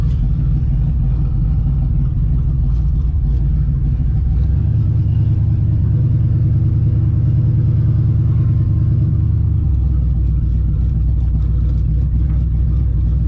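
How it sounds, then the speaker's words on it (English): Turbocharged SN95 Mustang running E85 pulls hard in second gear, its deep, loud engine rumble holding steady and then rising in pitch through the run. "we'll do a nice little pull. Second gear, overdrive off."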